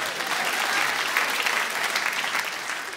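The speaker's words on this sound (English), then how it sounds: "Yeah, you applaud." A comedy club audience breaks into applause, a dense, sustained burst of many hands clapping that stays fairly loud and even throughout.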